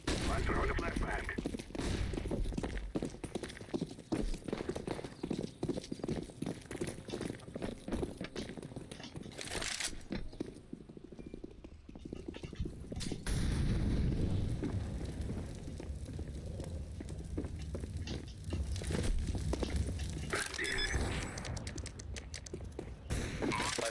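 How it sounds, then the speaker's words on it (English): Dense video game firefight with a flashbang grenade tossed amid constant gunfire and explosions, loud and continuous throughout, with players' voices calling out over the combat. "I'm throwing a flashbang."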